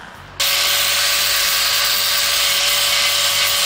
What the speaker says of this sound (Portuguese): Agora vou lixar aqui as placas com a rebarbadora.